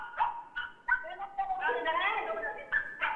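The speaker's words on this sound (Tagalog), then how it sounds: "Ilayo mo nga yung aso dyan." Dog making short yips and barks, interspersed with whimpering, close to the microphone on a television variety show, with a voice talking over and between the dog's sounds.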